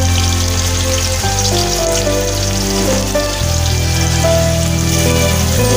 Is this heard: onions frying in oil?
yes